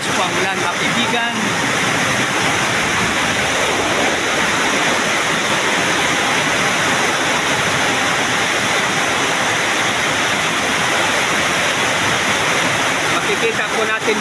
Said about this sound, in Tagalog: Napakalakas po ang ulan